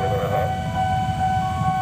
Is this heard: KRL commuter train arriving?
yes